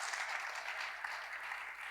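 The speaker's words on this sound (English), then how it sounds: "can I have a big round of applause for our panelists" A conference audience claps for the panelists at the end of a closing panel debate, a dense, steady round of applause from many hands with no talking over it.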